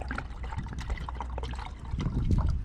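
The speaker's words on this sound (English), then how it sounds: "this is a good test too when I'm putting the water in here" Water is poured into a coffee maker aboard a kayak on a swamp, a close, continuous liquid trickle and pour that swells toward the end.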